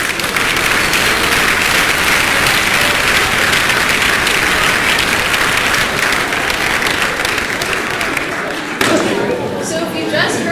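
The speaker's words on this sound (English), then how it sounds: "Let's give them a round of applause." An audience at a Winter 2020 keynote breaks into dense, sustained applause for about nine seconds, loud and even, before it drops off abruptly near the end.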